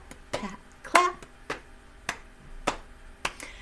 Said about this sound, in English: pat, clap, pat, clap